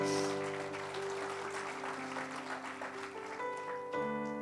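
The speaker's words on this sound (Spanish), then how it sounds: "Denle ese fuerte aplauso al Señor." Church congregation applauding together during a Christian worship service, a steady wash of clapping under sustained organ or keyboard chords that swell near the end.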